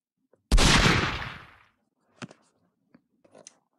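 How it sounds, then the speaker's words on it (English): A single loud, close gunshot in a comedic eclipse remix video game scene, with a long decaying blast followed by a few faint clicks and small thuds, no speech. "I'm gonna shoot the sun!"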